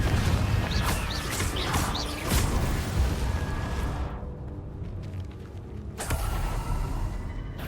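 Confringo spell explosions in Hogwarts Legacy, a dense string of loud booms, crackling blasts and crashing debris, near and continuous, with a brief lull midway before another blast hits.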